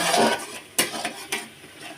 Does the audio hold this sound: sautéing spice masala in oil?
yes